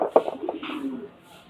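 A female pigeon coos close by in a few soft, throaty pulses that fade within a second and a half, with no talk over them.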